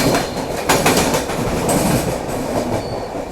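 A passenger train with sleeper class coaches runs through Jalgaon station without stopping, giving a steady rumbling clatter of wheels on rails with rhythmic clicks and faint squeals, loud and continuous from inside the carriage.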